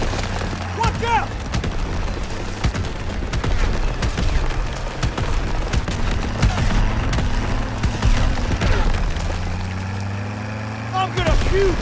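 Rapid bursts of gunfire and heavy booms in a Call of Duty WW2 train chase, loud and continuous, mixed with shouting voices and rumbling train and vehicle noise.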